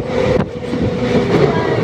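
Maa Tara Express passenger train rolling through a station without stopping, a steady loud rumble of wheels on rails with a brief rattling clatter, heard from on board.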